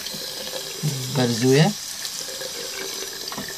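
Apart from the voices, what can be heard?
water running from tap while washing filter charcoal bag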